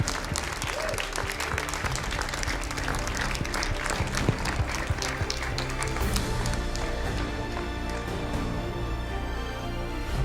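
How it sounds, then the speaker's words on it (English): Loud, sustained applause from a crowd at a FIFA 17 Ultimate Team Championship regional final, dense clapping continuing steadily for the whole stretch. "Let's have a round of applause for our champion."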